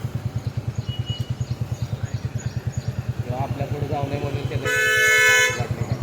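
A motor engine chugs steadily nearby, then a loud vehicle horn blares for about a second before the rumble continues.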